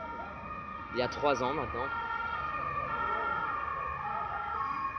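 An ambulance siren wails briefly at mid-distance for about a second, its rising and falling tone sweeping past over steady street noise while a voice talks.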